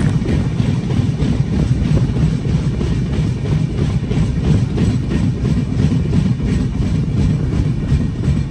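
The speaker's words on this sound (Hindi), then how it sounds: "साडे ड्राइवर ने पूरी स्पीड खींच रखी हैगी साडी ट्रेन दी 128-30 चलती पई है" An Indian Railways train races at full speed, about 128–130 km/h, near Rajpura Junction on the Delhi–Punjab route: a loud, steady rolling rumble with faint rhythmic clatter from the carriage, heard from onboard and continuous throughout.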